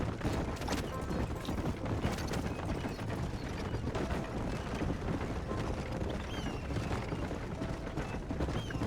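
Horses' hooves in the Red Dead Redemption 1 video game: a dense, rapid clatter of many hoofbeats mixed with creaks and rattling, fairly faint and continuous without a break.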